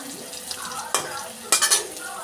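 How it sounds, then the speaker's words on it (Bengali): Chopped onions frying in a little oil in a wok, with a low sizzle and a few quick clinks and scrapes of a spatula against the metal, close by and brief, without speech. "এবার কড়াইতে সামান্য তেল দিয়ে কেটে রাখা পেঁয়াজগুলো ভেজে নেব"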